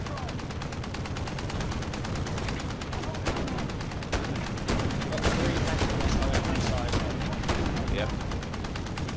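Machine gun fire in Call of Duty Modern Warfare during a Ground War match on Krovnik Farmland, dense continuous rattling bursts layered with other distant gunfire, steady and loud throughout.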